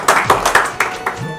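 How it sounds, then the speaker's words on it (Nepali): Guests at a Nepali Christian wedding ceremony clap, a run of uneven claps that gradually thin out, with a voice speaking over them. "एकचोटि हाम्रो भाइले ताली छोडिदिनुहोस्"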